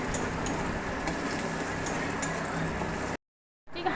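Onion frying in hot oil in a wok, a steady dense sizzle and crackle at close range that cuts off abruptly, then resumes after a short gap.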